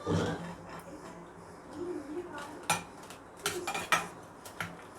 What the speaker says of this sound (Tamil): இப்போ புளிக்கரைசலை இப்போ நம்ம இந்த வடித்து வச்சுருக்க சாதத்தில் போட்டு கிளறிக்கலாம்